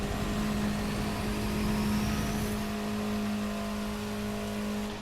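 A Mini Cooper S engine in a racing video game drones steadily under nitro boost, a loud continuous whine and roar holding through the whole stretch.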